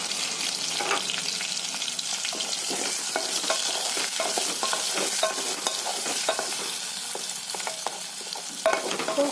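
Chicken fries in oil with ground black pepper, onion, garlic and ginger, a steady close sizzle punctuated by frequent scraping and clinking of a stirring spoon against the pan.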